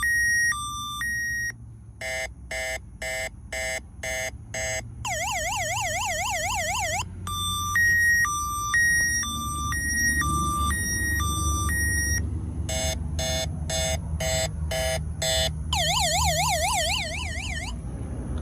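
A Peterbilt truck's alarm in Miami runs in panic mode, cycling loudly through rapid beeps, warbling siren wails and chirping tone patterns for about eighteen seconds. Brief pauses fall between sequences, and no voices are heard.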